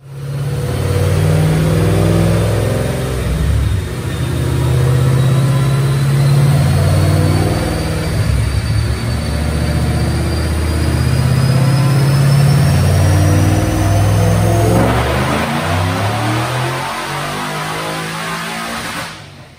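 The engine of a supercharged 3-valve 2010 Mustang fitted with a Whipple supercharger roars loud and close during a dyno pull, with long sustained revs and a rising supercharger whine, easing off near the end.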